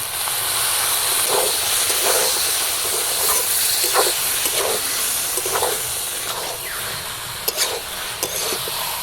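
Cumin paste and water going into a pan with garlic paste hit a steady hiss and steamy sizzle, punctuated by soft scraping stirs and a few sharper clinks near the end.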